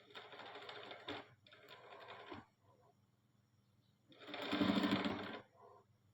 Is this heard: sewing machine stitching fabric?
yes